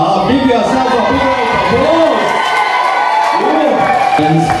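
Wedding reception guests in a Durban crowd cheer and whoop loudly and steadily, with a dense roar of voices and scattered clapping that never lets up.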